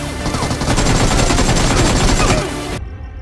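An AKM assault rifle with a 6x scope fires in the mobile battle royale BGMI, a loud sustained burst of rapid close shots that ends abruptly.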